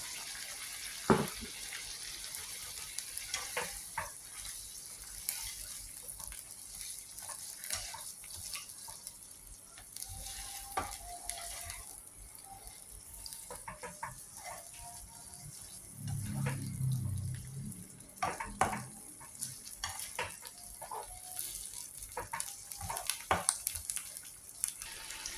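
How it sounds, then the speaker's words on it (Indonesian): Long beans tipped into a pot of boiling water while cooking a home-style stir-fry, giving a brief bubbling, splashing burst midway over a steady hiss of boiling. "Ini airnya sudah mendidih, kita masukkan kacang panjangnya."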